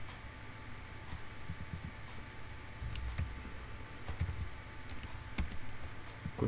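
Keys clatter on a computer keyboard as a search query is typed, a light irregular patter of clicks over a steady low hum, close and moderately quiet.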